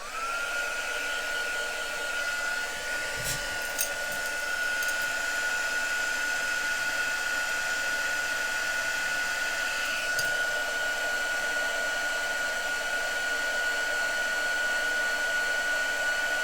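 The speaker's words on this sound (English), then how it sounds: "Fetch my heat tool in. I do apologise about the noise" A heat tool blows hot air in a steady, loud whirring hiss with a constant high whine, running unbroken throughout.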